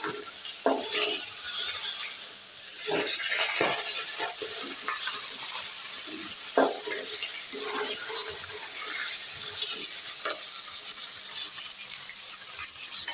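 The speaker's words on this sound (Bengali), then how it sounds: "দুপুরে রান্নাবান্না চলছে মাছ ভাজি করছে কাতল মাছ" Catla fish frying in a pan during a home lunch cook, a loud continuous hissing sizzle with frequent crackles and spatters, close up and without talk.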